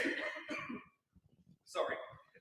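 A cough during a live television broadcast of a city council candidate segment, a sharp burst then a quieter second cough, with talking before and after in a studio setting.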